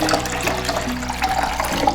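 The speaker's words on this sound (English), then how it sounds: "pour water straight in." Water pours steadily into the reservoir of an Instant single-serve coffee maker, a continuous close splashing and gurgling fill with no talking.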